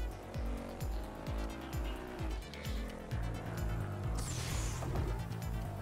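A race car in the video game Horizon Chase Turbo, on a California course, revs with repeated rising engine sweeps and tire squeal, then a bright rushing nitro boost whoosh kicks in over the steady engine drone.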